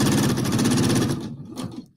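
A sewing machine stitches fabric pieces together for a quilt block, a rapid, even mechanical rattle up close that runs for just over a second, then slows and stops with a couple of short bursts.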